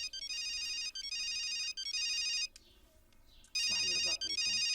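A telephone rings in repeated electronic bursts, three rings then a pause and another ring, fairly close, with a brief voice speaking in the gap.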